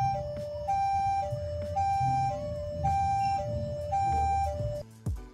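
A Nokia 1202 composer ringtone mimics an ambulance siren with a monophonic electronic tone alternating steadily between two pitches in a repeating hi-lo pattern, loud and clear, ending abruptly near the close.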